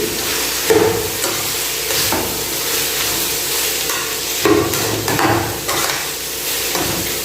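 A cumin mixture being stirred in a hot pan, giving a loud continuous sizzle and hiss with repeated scraping and light knocks of a spoon against the metal.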